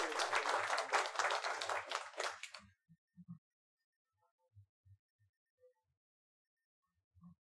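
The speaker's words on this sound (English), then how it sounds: "Could I get a round of applause for these ladies?" Brief burst of applause at a Williston, Florida council meeting, a few seconds of dense clapping that stops abruptly, followed by quiet room sounds and scattered faint knocks.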